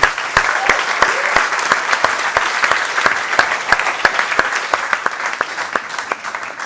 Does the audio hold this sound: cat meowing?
no